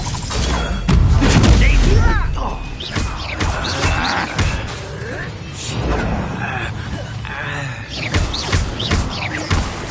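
A spell is cast in the Hogwarts Legacy video game amid loud magical booms, crashes and thuds of combat, with voices shouting throughout.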